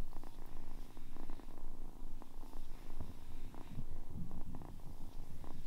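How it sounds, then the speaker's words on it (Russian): A silver chinchilla cat purrs softly and close by, a low rhythmic rumble rising and falling with each breath, with no other sounds. "Очень ласковая кошка."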